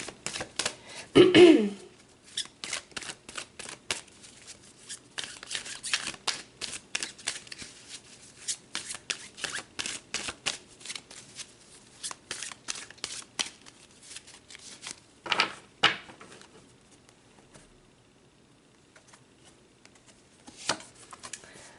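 Tarot cards are shuffled by hand in quick, crisp bursts of riffling and tapping, close and fairly quiet, with short pauses between runs and no talking.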